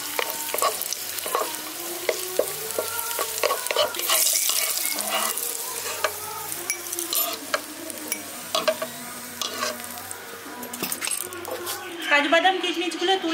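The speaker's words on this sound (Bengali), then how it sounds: "এবার এগুলোকে আমি হালকা করে একটু ভেজে নিয়ে তুলে নিচ্ছি।" Cashews and raisins fry lightly in hot oil in a pan, giving a steady sizzle with scattered clinks and stirring scrapes, while a voice talks over it.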